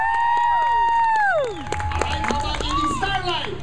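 Live audience cheering and clapping to vote for a contestant at a comedy show; a loud sustained whoop that slides downward, then crowd noise with claps and scattered shouts.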